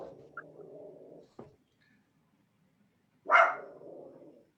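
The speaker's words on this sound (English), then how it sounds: "My dog is barking." A pet dog barks at home, one short bark and then a sharper, louder bark after a pause, both near and clear against otherwise quiet surroundings.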